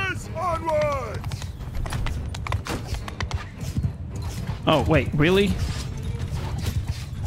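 Horses gallop with rapid clip-clop hoofbeats in a medieval battle in Mount & Blade 2: Bannerlord, mixed with game noise and neighing while someone talks excitedly over it.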